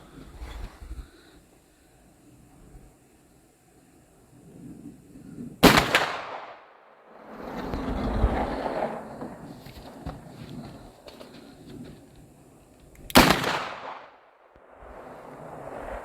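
Two sharp, loud gunshots from a .500 Magnum revolver, roughly seven seconds apart, each a sudden broadband crack with a booming tail, fired outdoors amid quieter background rustle and movement.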